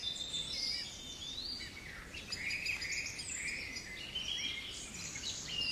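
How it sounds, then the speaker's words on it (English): Dawn chorus birdsong with a song thrush repeating its notes: bright, chirping calls and phrases sound continuously at moderate distance over a soft outdoor hush, with no voices. "the song thrush going, repeating notes 3 or 4 times"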